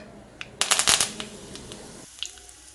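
A handful of curry leaves with mustard seeds hits hot sesame oil for lemon pickle, giving a sharp burst of crackling and spitting that quickly settles to a faint sizzle.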